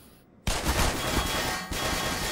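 Enemy gunfire in the first-person shooter Black Mesa breaks out suddenly after a quiet moment and keeps going as a dense, continuous burst of shots, loud and close, with a brief dip before it resumes.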